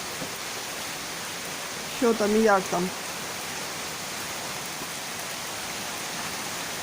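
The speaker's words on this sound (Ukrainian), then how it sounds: "коли дощ закінчиться" Steady rain patters continuously throughout, with a short burst of speech briefly rising above it midway.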